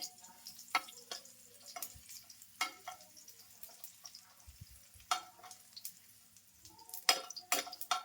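Onion and garlic frying quietly in a pan make a faint, sparse sizzle broken by scattered clicks and spoon taps against the pan, with no voices.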